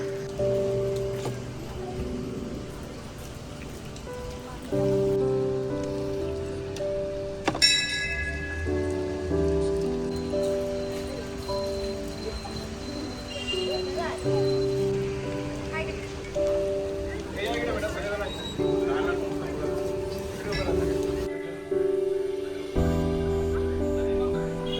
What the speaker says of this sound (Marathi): आपला पाऊस सुद्धा पडले